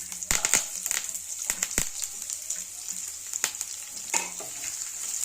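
Chopped onion fries in a pan for sambar, a close, steady sizzle broken by sharp stirring scrapes and clatters.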